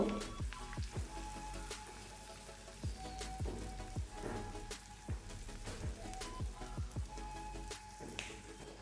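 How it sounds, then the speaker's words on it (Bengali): Sliced onions fry in hot oil with a dense, steady crackling sizzle full of small popping spatters, close and continuous with no talking. "দুটো পেঁয়াজকে স্লাইস করে কেটে রেখেছিলাম এটা এখানে দিয়ে দেবো এবং হালকা করে আমি ফ্রাই করে নেব"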